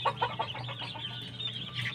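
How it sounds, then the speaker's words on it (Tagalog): Several hens cluck in a steady, busy rhythm close by, with a low continuous hum running underneath throughout. "Bale tatlong inahin to."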